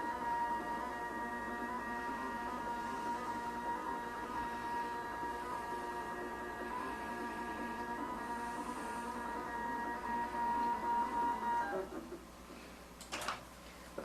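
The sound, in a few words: iQ computerized quilting machine moving to the quilt edge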